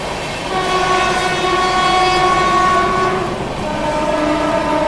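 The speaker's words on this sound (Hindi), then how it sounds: "यहाँ पर एक और ओवरटेक इस जर्नी का, गीता जयंती एक्सप्रेस।" One express train overtaking another, the passing Geeta Jayanti Express, heard from aboard a Rajdhani train: a loud, sustained horn over a continuous rumble and rattle of rolling wagons.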